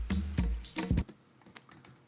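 A quick run of computer keyboard shortcut keypresses, Command-M in Ableton Live, gives a cluster of sharp clicks and clacks up close, followed by a few fainter scattered taps.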